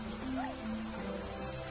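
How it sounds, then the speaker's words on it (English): Rainfall in the video game Niche, a soft steady patter of drops with a faint tonal chime drifting through, heard alone and fairly quiet. "Yep, it's raining."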